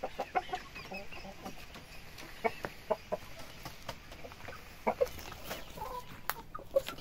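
A hen and a blue O-Shamo rooster cluck softly and repeatedly close by, short irregular clucks spread across several seconds over quiet background noise.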